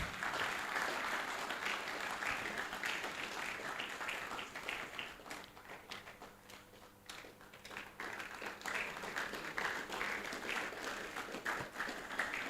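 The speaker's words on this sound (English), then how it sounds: "with a resounding round of applause, please help me welcome Dr. David Kane Boyson" A large audience at the Rethink Africa 2025 event applauds to welcome a maritime and port expert to the stage. The clapping is dense and sustained, dips slightly in the middle, then swells again, with no voices over it.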